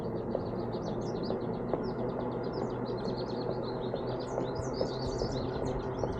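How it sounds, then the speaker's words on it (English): Many birds chirp and tweet steadily in a Japanese garden, a dense, continuous chatter of high calls over a low outdoor rumble, with no talking. "That was a lot of awesome sounds from all those birds."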